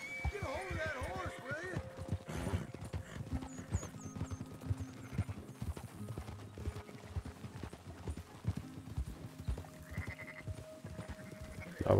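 Sheep bleat repeatedly while horse hooves clip-clop steadily in Red Dead Redemption 2, a herd being driven along at pace, with scattered calls over the rhythmic hoofbeats and occasional speech mixed in.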